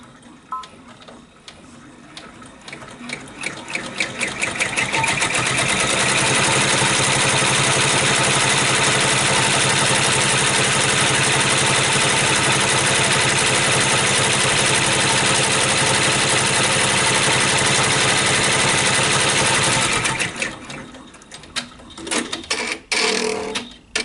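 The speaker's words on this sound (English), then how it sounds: "Now it's going to stitch the tack down." An embroidery machine stitches the tack-down line on a tooth fairy pillow, a loud, steady mechanical whir with rapid rhythmic needle ticking that runs about fifteen seconds, then stops, followed by a few clunks.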